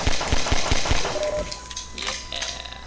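Rapid gunfire in the video game Half-Life 2, a burst of about six sharp shots early on that fades into quieter game sounds and a faint tone.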